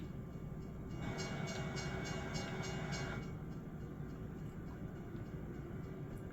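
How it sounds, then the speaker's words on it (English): A train passing behind a truck in American Truck Simulator, heard as a constant low rumble with a run of rhythmic wheel clacks for a couple of seconds, fairly faint and without talk. "Oh, there's a train behind us."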